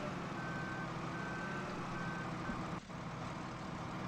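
In the Farm Simulator 2013 video game, a farm vehicle sounds its reversing alarm, a steady series of evenly spaced electronic beeps over a continuous engine rumble.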